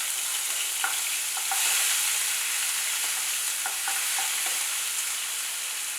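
Dried red chillies, curry leaves, hing and ginger-chilli paste sauté in hot oil, giving a bright continuous sizzle with faint intermittent stirring taps, close and steady, no talking.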